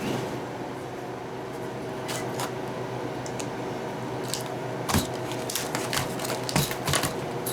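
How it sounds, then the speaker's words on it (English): A vacuum sealer pumps the air out of a double-bagged pouch of freeze-dried deep dish taco casserole, giving a steady motor drone close by, with sharp clicks and crinkles growing more frequent toward the end. "Do a vacuum seal on that."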